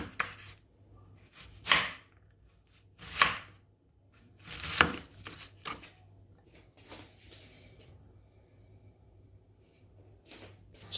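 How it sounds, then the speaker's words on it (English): A knife cuts an onion into small cubes on a board, giving a few sharp, spaced chops close by with quiet pauses between them and no talking. "Then I'm going to make some cuts and go ahead and just cut it into small cubes"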